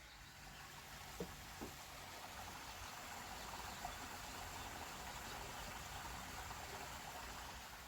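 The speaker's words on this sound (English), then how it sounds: "the waterfall is on" Steady broadband rushing of a waterfall outdoors, continuous and fairly faint, with a couple of soft knocks early on.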